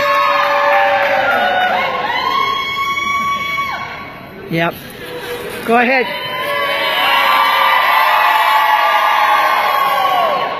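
A crowd of students at a senior party cheers and shouts continuously, with loud whoops and yells rising and falling, while someone speaks briefly over the din partway through.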